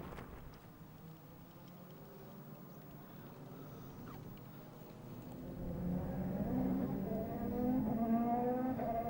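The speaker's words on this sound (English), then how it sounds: "You can still hear those cars whizzing around Silverstone." Race cars circling Silverstone circuit, heard from the Whittlebury Park golf course as a distant engine drone that swells and climbs in pitch through the second half.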